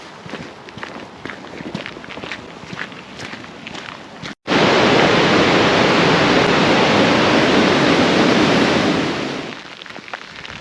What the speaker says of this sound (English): it's absolutely pouring down now